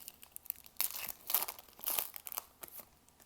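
Yu-Gi-Oh! foil cards slide into plastic sleeves, giving quiet crinkling and rustling bursts that swell and fade irregularly, close by with no talking.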